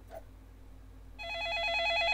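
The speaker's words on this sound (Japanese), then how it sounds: "また電話が鳴った。" A telephone rings in a video game, with a steady electronic warble starting partway through and holding loud to the end after a quiet opening.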